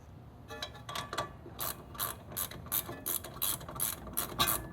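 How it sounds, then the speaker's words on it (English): Torque wrench clicking in a steady ratcheting rhythm while front wheel bearing hardware is tightened on a Porsche Boxster 986, a dozen or so crisp clicks close by with no talking. "Use a torque wrench."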